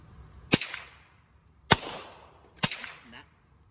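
Three sharp gunshots fired at metal targets outdoors, spaced about a second apart, each a loud crack followed by a brief ringing decay, with quiet gaps between.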